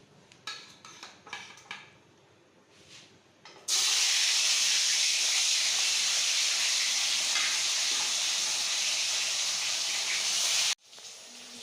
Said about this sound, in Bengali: মাছ ভাজা কমপ্লিট হয়ে গেছে